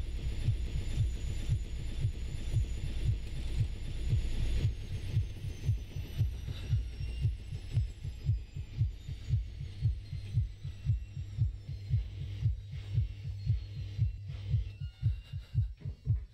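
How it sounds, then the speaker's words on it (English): A persistent heartbeat in the horror video game Infliction thuds steadily as a loud, low, regular double pulse that lasts the whole stretch, over a faint humming ambience. "This heartbeat won't stop either."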